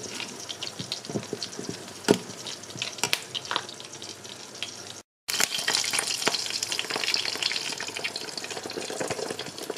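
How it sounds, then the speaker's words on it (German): Raspberry Schmarren batter fries slowly in hot butter with a continuous, close sizzle and light crackle. There is a brief break midway, and no one speaks. "jetzt können wir das dann gleich in der heißen Butter schön langsam auf beiden Seiten braten"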